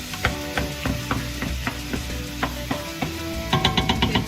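Sausage meat frying in a pan while a wooden spoon breaks up the pieces: a steady sizzle punctuated by regular scraping knocks of the spoon against the pan, close and fairly loud, with no talk.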